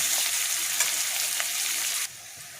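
Onions fry in a pan with a bright, steady hiss, close and fairly loud. After about two seconds the hiss suddenly drops to a quieter sizzle.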